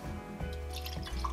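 Water drips and trickles into a burnt sienna and umber paint mix for a desert rock base texture, a few soft close drips over a low steady hum, faint, with no talking.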